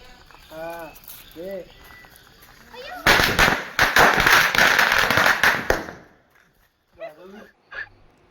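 Firecrackers going off in a dense, loud rapid string during a home Eid al-Adha celebration, preceded and followed by a dog barking and whimpering nearby.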